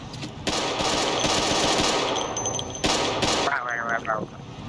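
Loud automatic gunfire from a heavy weapon in the Project Zomboid video game, sustained bursts over a few seconds with a short pause, with voices talking over it.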